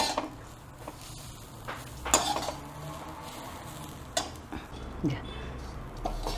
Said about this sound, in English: I have to roast it till it is light brown. Don't put oil. And keep stirring it.